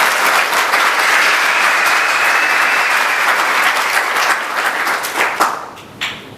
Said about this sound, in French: je souhaite à nouveau qu'on applaudisse très fort pour les futurs